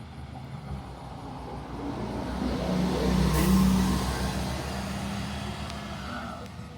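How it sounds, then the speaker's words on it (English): Gas-powered bus passing on a suburban route, a steady engine rumble that swells as it draws nearest midway through and then fades away, with no talk over it. "Yet another gas bus."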